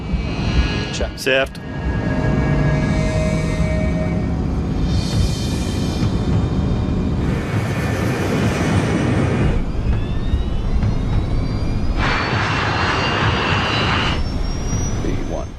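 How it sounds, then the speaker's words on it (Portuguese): Jet engines of a DC-8 airliner roar steadily as it accelerates down the runway for takeoff, a loud sustained rush with rising whine, while voices talk over it. "O DC-8 acelera para a velocidade de decolagem."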